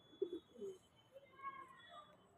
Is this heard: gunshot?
no